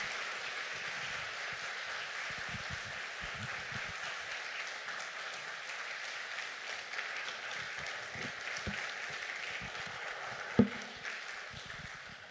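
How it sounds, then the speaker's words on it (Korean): Church congregation applauding to welcome the pastor at a Sunday service, a sustained wash of moderate clapping that keeps going steadily, with no voices over it. "우리 목사님 나오실 때 따뜻한 사랑으로 뜨거운 박수로 맞이하겠습니다"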